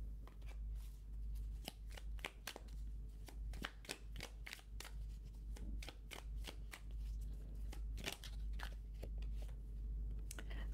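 Tarot cards are shuffled and drawn by hand during a reading. Crisp, close riffling snaps and flicks come in an irregular run over a low steady hum, with no talking.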